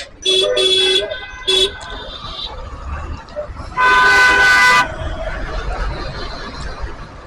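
Car horns blaring in a traffic jam at Kakoli junction in Banani, Dhaka, several short toots followed by one long sustained honk over a steady rumble of engines and street noise.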